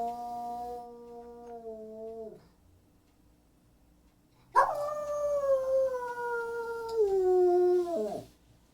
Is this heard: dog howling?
yes